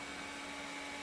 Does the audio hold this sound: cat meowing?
no